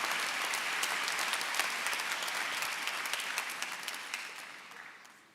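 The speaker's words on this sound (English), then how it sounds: "Let's just give them a heartfelt round of applause once again" Applause for graduates' families at a New York Law School commencement, a broad hall full of clapping, steady and dense before slowly tapering off toward the end.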